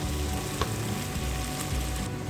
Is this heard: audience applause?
no